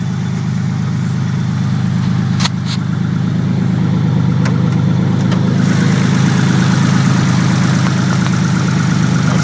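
An engine runs at a steady, loud idle on its first start-up after repairs, a continuous low rumble with a couple of faint clicks and no talking.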